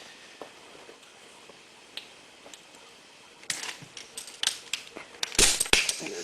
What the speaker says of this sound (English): Trusty ratchet.